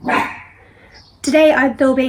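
Dog barking in a garden: a sharp bark at the start, then a few seconds later a run of loud, close, harmonic barks and yips, mixed with a person speaking.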